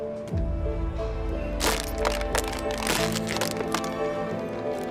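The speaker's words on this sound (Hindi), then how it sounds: "इस ढक्कन को ऐसे दबा के इसके अंदर डाल दीजिए।" A plastic bottle cap is pressed down and forced into the bottle's neck, producing loud, repeated crackling and snapping bursts of strained plastic with no talking.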